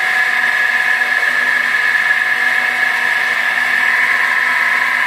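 A critical speed of shaft test machine runs at around 2741 RPM, giving off a loud, steady high whine over a mechanical drone, unbroken throughout with no speech.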